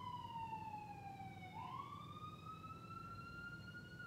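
An emergency vehicle siren wails outside as it passes, one steady tone gliding down and then back up in a Doppler sweep, distant and moderately loud over a low rumble of background noise.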